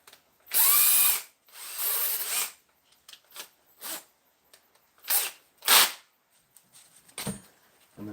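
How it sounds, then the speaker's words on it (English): Power drill fitted with a small bit boring into wood, heard as several short separate bursts of varying length, the longest two near the start, each close and fairly loud with quiet gaps between. "So just take a drill with a small drill bit,"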